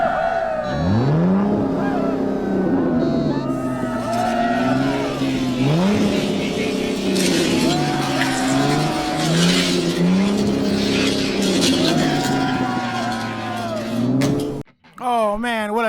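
Pagani and Corvette race cars in a video game race, engines revving loudly through rising and falling gear shifts with occasional tire squeal, close and continuous, ending with a short burst of a different engine whine.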